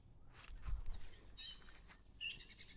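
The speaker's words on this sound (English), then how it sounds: "Hear the birds?" Birdsong drifts in from a distance, a few high chirps and short whistled phrases over a soft outdoor hum.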